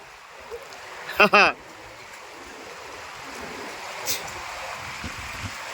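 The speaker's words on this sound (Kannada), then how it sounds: "ಜುಳು ಜುಳು ಹರಿಯುವಂಥ ರಭಸವಾಗಿ ಹರಿಯುವಂಥ ವಿಶೇಷವಾಗಿ ಕೋಲ್ಡ್ ಆಗಿದ್ದ ನೀರನ್ನು ಹೊಂದಿರುವಂಥ ನದಿ ಇದು" Steady broadband rush of a fast-flowing cold river where pilgrims bathe, heard close and continuous, with a brief burst of a voice calling out early on.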